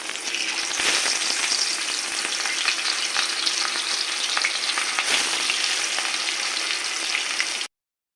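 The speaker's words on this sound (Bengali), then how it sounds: "এবার ম্যারিনেশন করে রাখা মাছ দুটোকে আমরা ভেজে নেব" Marinated fish fries in hot oil in a wok for a South Indian-style fish curry, a loud, continuous sizzle with crackling bursts that runs unbroken before stopping abruptly near the end.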